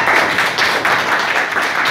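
Children clap for the winner of a geography word quiz, a steady, dense round of applause at close range, with no gaps.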